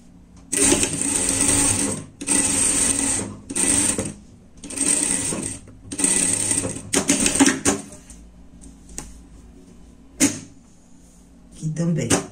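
A sewing machine quilts the sleeves of a lined pet jacket in several short bursts, each lasting about a second with brief pauses between, followed by a few quieter, sparser stitching runs near the end.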